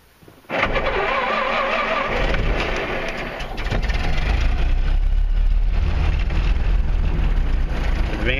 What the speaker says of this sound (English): Turn our ignition on, and you'll notice that the ammeter shows that we've got discharge, which is good. Then we give it a crank.